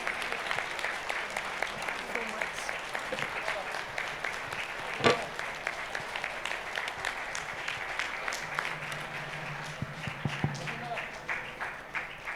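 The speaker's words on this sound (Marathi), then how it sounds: "तालियां बजती रहनी चाहिए." Crowd clapping after a devotional music performance at the Shree Adishakti Puja at Saptashrungi Gad continues steadily while a voice speaks over it, with a few sharper thumps partway through.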